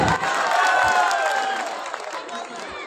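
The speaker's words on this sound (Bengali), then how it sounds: "আমি ওনাদের জন্য জোরে একটা করতালি আশা করছি আপনাদের কাছে" Audience applause at a college reunion ceremony: dense, steady clapping from a crowd, with some cheering mixed in, that fades slightly toward the end.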